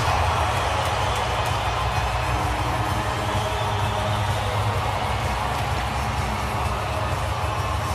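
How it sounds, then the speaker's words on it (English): A steady roar of crowd applause and cheering fills an arena after Italy scores a goal in a para ice hockey game, continuous and loud throughout. "Italy with a huge goal and a rapturous applause"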